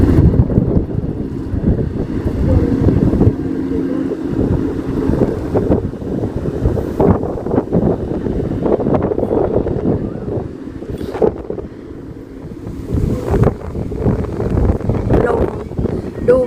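Strong wind gusting across the microphone outdoors among crowded streets near a huge temple, a loud continuous rumbling buffet that swells and dips throughout.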